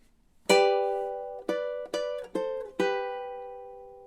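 Ukulele finger-picking measure 10 of a song, five clear plucked notes and double stops, each ringing out and decaying, played softly and close with no talking.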